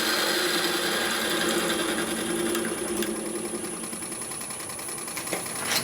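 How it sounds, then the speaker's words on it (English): Bowl gouge cutting a maple burl bowl on a lathe, a loud continuous scraping rasp with a steady motor whine underneath, holding even throughout. "put the bowl gouge in, then we can cut the rest of that away."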